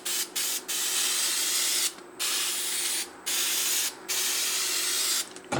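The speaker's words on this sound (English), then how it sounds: "any sort of meguires or turtle wax or whatever foamy carpet spray will work pretty good" A foamy carpet cleaner is sprayed onto white Nike sneakers as a light coating, giving five loud hissing bursts with brief gaps between them.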